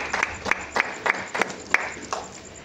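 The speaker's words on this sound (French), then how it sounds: "Alors, acclamons la parole du Seigneur." A church congregation applauds in acclamation of the word of the Lord, a steady rhythmic clapping of about six or seven beats, moderately close over a quiet room.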